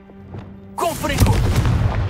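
A Confringo blasting spell erupts into a loud, close explosion in Hogwarts Legacy, a sharp onset followed by a sustained crackling roar and rumble.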